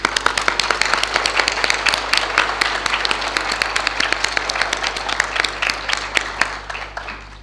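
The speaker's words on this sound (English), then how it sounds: "So let's give him another big round of applause," A lecture audience breaks into sustained applause, many hands clapping densely and steadily at close range, fading slightly toward the end with no talk over it.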